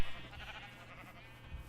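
A Minecraft sheep bleats once, a wavering nasal baa held for over a second, fairly close and clear over faint background hum.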